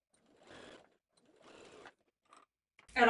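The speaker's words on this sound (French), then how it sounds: "On va les coudre à 1 cm." A sewing machine stitches a fabric seam at 1 cm on a belt bag in two short, quiet whirring runs separated by pauses, followed by a sudden louder burst at the end.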